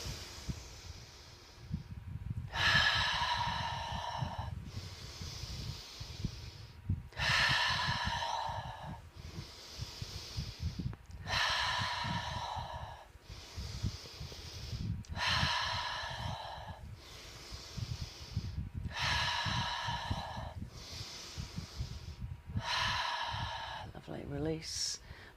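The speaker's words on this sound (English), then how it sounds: "take a breath in, hold the breath in when the elbows are up" Deep, slow breaths during a meditative breathwork exercise, each inhale and exhale a loud, breathy rush repeating in a steady cycle about every two to three seconds, close to the mic, over a soft low background drone.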